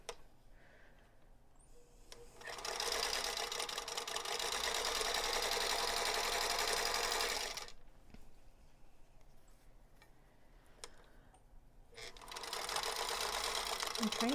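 A sewing machine stitches a diagonal line across quilt block fabric in two steady humming runs, the first lasting about five seconds and the second starting near the end, with quiet pauses between.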